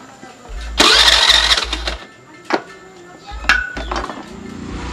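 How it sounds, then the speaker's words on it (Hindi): LPG-converted Hero Duet scooter engine being started, with several short starter bursts, a clink, and the engine catching briefly between attempts. "अब हम स्कूटर को स्टार्ट करेंगे"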